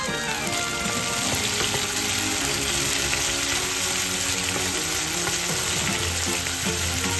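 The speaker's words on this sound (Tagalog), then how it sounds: "Ngayon lagay natin ang kamatis." Tomatoes go into a hot pan with shrimp and bottle gourd, frying in a steady, close sizzle with occasional stirring scrapes, no talk over it.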